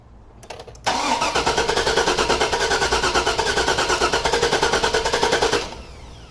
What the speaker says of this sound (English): Crank it again real quick.